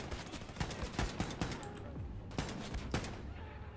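Gunfire from a gun in Wolfenstein II: The New Colossus, a dense run of sharp shots with brief pauses, some single cracks standing out, steady and fairly close with faint game noise beneath.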